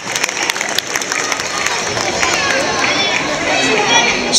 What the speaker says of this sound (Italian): Un applauso, Bruschi!